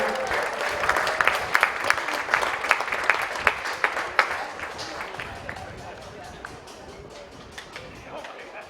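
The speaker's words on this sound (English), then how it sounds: "All right, another round of applause for Frost and Frost" A round of applause from a modest crowd at a polo club awards podium, brisk at first and gradually thinning out, with talking mixed in underneath.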